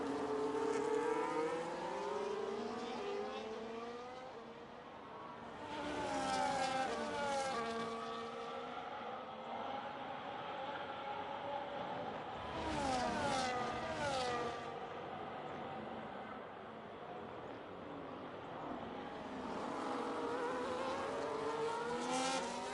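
Race cars lapping the COTA circuit in a racing video game, engines whining up and down through gear changes as cars close in and pass, loud in surges with quieter gaps, with no talking.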